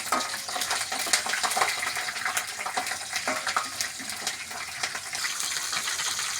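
Cashews, whole spices like mace, cinnamon and cloves, and green chillies fry in oil in a pan, a continuous close sizzle with scraping stirs and small crackles, fairly loud and steady, no voices.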